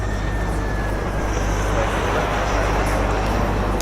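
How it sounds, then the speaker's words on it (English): Steady airport ambience in a flight simulator game, a broad continuous roar with low engine hum and a faint whining tone, constant and fairly loud with no talk over it. "As you can hear, we've got some airport noises"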